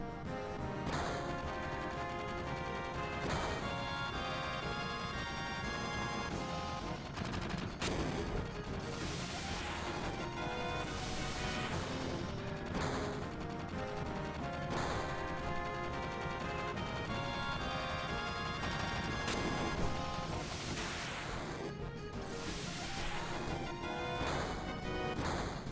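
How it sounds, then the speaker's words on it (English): Gunfire rings out in the video game Final Fantasy 7, repeated sharp shots and crashes mixed into a dense layer of game music and effects, fairly quiet overall. "Gunfire."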